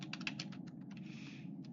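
Keys clack rapidly on a computer keyboard as a command is typed into the text adventure game Alter Aeon, with a quick, uneven run of close, crisp clicks, then a brief pause and a few more taps, with no talking.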